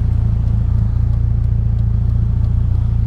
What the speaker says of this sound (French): il y a trop de voitures